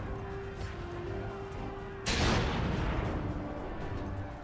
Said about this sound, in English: Okay, someone throw the bomb.